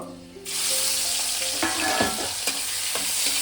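Shrimp hit hot oil seasoned with panch phoron in a kadai, bursting into a loud, continuous sizzle that holds steady, with a few clinks and scrapes of a spatula, close up and without talk.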